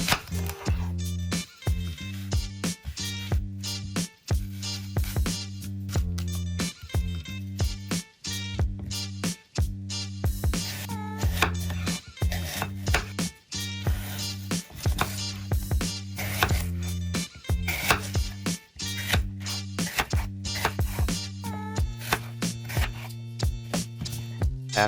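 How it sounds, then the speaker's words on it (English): A knife dices a red apple into bite-size pieces on a cutting board, with crisp, rapid, rhythmic chops repeating close and clear throughout and no talking. "Wash and diced red apple into bite size."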